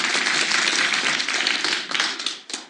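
A TV quiz show studio audience bursts into dense, steady applause, many hands clapping at once, loud and continuous before thinning out at the end.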